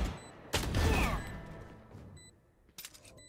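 A short burst of rifle fire in a Valorant pro match, a few sharp shots followed by quieter clicks and game interface tones, with no talking.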